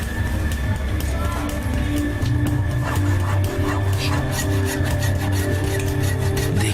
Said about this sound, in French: on a pu commencer à scier les barreaux.